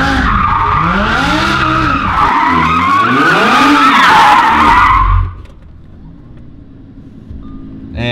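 A supercharged Lamborghini Huracan spins donuts with its tires skidding and squealing loudly in wavering, sweeping pitches over the roaring engine, then the screech cuts off and the engine drops to a low idle.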